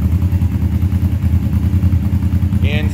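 A Suzuki GS450 cafe racer with mufflers fitted runs steadily at idle, a close, even low burble with a regular pulsing rhythm and a faint higher squeak near the end.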